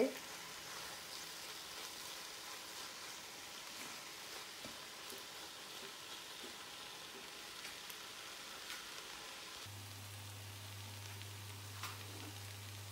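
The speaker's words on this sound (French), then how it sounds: "je vais frire mon poisson et puis rajouter" Fish frying in oil, a faint, steady sizzle with soft crackles throughout, heard from a little distance, with a low hum joining near the end.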